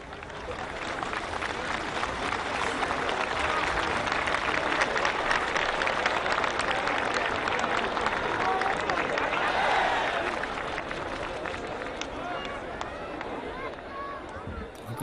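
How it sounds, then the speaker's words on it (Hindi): Sustained crowd applause at the Republic Day parade on Rajpath, a dense wash of clapping from a large outdoor audience that holds steady at full strength throughout, with a faint murmur of voices mixed in. "तालियों की गड़गड़ाट"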